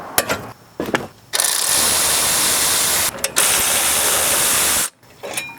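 A ratchet loosens the two 17mm brake bracket bolts on the front steering knuckle of a 2013–2017 Honda Accord, with quick clicking strokes at first, then long loud bursts of buzzing ratchet noise broken by short pauses, close up.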